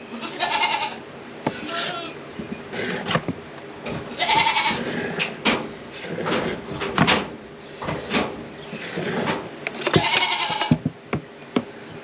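Several goats on a farm bleat repeatedly, loud and close, with overlapping calls spread across the stretch, while a person talks and clattering, knocking sounds from farm chores come through between the calls.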